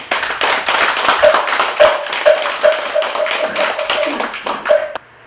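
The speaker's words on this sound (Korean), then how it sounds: "이 부분도 감사하다고 박수 한번 주시기 바랍니다." Audience applause at a Buddhist university entrance ceremony, a steady crowd of hand claps filling the room for about five seconds before stopping abruptly.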